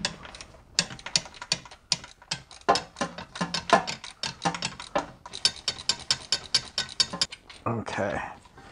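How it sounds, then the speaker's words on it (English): A ratchet fitted with an extension turns a Torx bolt on the oil pan of a BMW E46 330i/325i, giving many quick, sharp clicking bursts in uneven runs, close up and without talk. "I've actually got a little bit of an extension on my ratchet so that I can get some clearance for the head of the ratchet"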